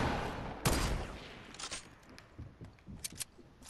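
Gunfire in a video game shooter match: one loud shot rings out, then a string of quicker, quieter shots follows, with no voices.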